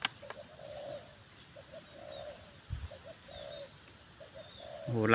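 A zebra dove coos in soft, repeated short phrases at a moderate distance, with quiet gaps between calls and a brief thump near the end, no talking.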